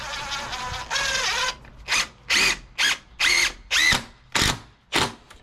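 Power drill driving long screws into a deck railing post, several short whirring bursts after two longer runs, each starting and stopping sharply, close and loud with no talking.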